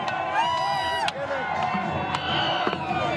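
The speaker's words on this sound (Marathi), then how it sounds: "नीरजच्या गावातनं हा जल्लोष पाहायला मिळतो" Villagers in Neeraj Chopra's home village celebrate his Olympic gold: a close, lively crowd cheers and shouts, with sharp bursts of noise and ringing tonal sounds over steady crowd noise.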